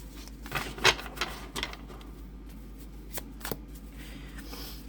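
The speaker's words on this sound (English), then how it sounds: "actually a lot of my decks are not really super easy to shuffle" Tarot cards, a gold-edged angel deck, being shuffled by hand in several quick riffling bursts, close and fairly quiet against a still room.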